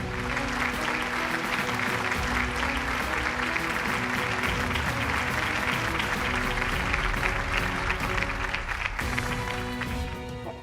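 An audience applauds at a banking event, sustained clapping from a crowd over a steady, loud stretch with some background noise.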